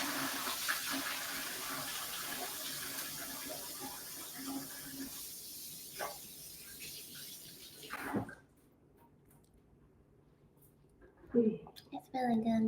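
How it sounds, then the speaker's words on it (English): A kitchen tap runs while hands are washed during cake decorating, a broad steady splash that stops partway through, followed by a quiet pause and a few clinks. "I'm just going to wash my hands for a second."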